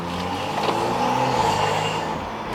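BMW M235i with an N55 engine and a catless VRSF downpipe running steadily, a continuous close engine drone that swells slightly midway as the car pulls off, with no talk.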